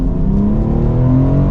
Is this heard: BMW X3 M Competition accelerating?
yes